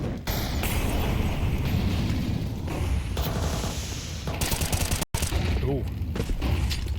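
A grenade detonates during a professional Counter-Strike match between NiP and Aurora, a loud blast amid a dense wash of gunfire and game noise, with caster voices calling over the action.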